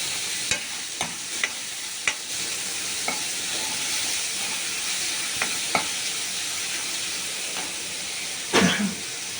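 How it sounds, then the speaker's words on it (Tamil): Onions sauté with salt in a pan for mushroom dosa, giving a loud, steady sizzling hiss broken by occasional sharp spatula clicks and scrapes, with one louder stirring clatter near the end. "வெங்காயம் வதக்கும்போது கொஞ்சம் உப்பு போட்டுக்கிட்டிங்கன்னா நல்லது"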